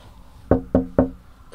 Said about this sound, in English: It was just like a knock on the door